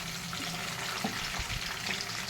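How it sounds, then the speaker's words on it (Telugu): Bitter gourd pieces frying in a generous amount of oil in a pan over high flame, a steady, fairly faint bubbling sizzle with soft stirring clinks and no voices. "మూకుడులో ఆయిల్ వేసేసుకోవాలి కొంచెం ఎక్కువ పడుతుంది ఇట్లా కాకరకాయలు అనేసి వేపుకోవాలి అన్నీ వేసేసి ఒకటేసారి వేపుకోవాలి"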